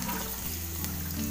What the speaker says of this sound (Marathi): कढईमध्ये बघा मी तेल टाकले, त्यात हे सर्व गरम मसाले टाकते